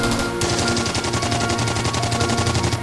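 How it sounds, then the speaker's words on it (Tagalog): Gunfire sound effect of loud rapid automatic shots in a steady, dense rattle that continues throughout, close and harsh, with no speech. "Putok pa rin sa paligid."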